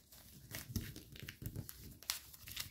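Paper being creased and folded into an origami fighter jet, with close crinkling and crackling bursts scattered irregularly across a quiet background and no talking.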